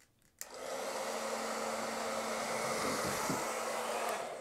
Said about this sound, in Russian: я включил фен на единичку, а не на двойку